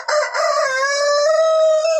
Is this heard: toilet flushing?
no